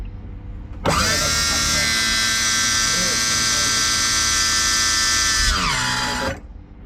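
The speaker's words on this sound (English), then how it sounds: "we got the trim pump working" A boat's electric trim pump motor whirs steadily and loudly up close for several seconds with a high, even whine, then winds down and cuts off.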